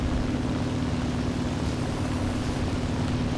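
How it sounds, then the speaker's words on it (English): A constant low mechanical drone with a steady hum from a dying tank engine in War Thunder ground battles, droning on without change and no voices. "the engine's dying. I can hear it."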